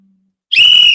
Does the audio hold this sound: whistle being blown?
yes